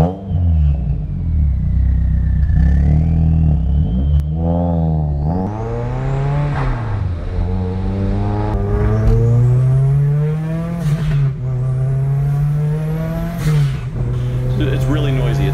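A Mazda Miata with a turbocharged Ford Duratec 2.5-liter engine revs and pulls loudly, the engine pitch rising and falling through repeated climbs with a strong, steady drone and a turbo whistle above it.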